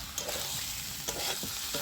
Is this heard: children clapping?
no